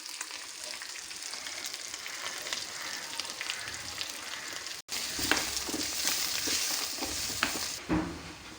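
Onions and curry leaves sizzle and crackle in hot oil for a Tamil avial tempering, with occasional stirring scrapes breaking up the steady frying hiss up close.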